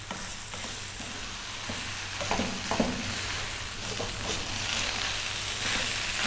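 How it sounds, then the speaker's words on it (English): Soy sauce beef fried rice stir-frying in a hot pan, a steady hiss of sizzling with scattered scraping and tossing clatters, close and continuous. "Let's try and really fry our rice a little bit."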